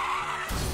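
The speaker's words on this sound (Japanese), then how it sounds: "レース中の車が盛大にクラッシュした" A race car at Suzuka Circuit skids with a taut tire screech, then breaks into a short, rough burst of crash noise, all over in under a second and heard from a distance.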